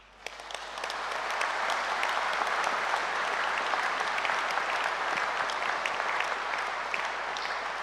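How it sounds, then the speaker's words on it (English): A large graduation audience at Edinburgh Napier University applauds in a sustained wave of dense clapping that swells within the first second and holds steady, heard from a distance in a big hall. "Let us offer a heartfelt round of applause to all of you"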